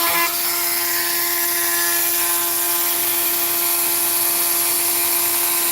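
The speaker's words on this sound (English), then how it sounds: "once you get the Dremel in your hand, you want to like smooth out every surface" A Dremel rotary tool whines at high speed, smoothing the surface of a cut rock such as opal or turquoise, a loud, steady, close grinding tone held throughout with no speech.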